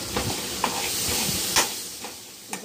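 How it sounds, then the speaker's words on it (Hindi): A vegetable tempering (tadka) with tomatoes sizzles in an old kadhai: a steady, close hiss of frying with a few light stirring clinks throughout. "तड़का भून रही हूँ, दो टमाटर डाल लेंगे,"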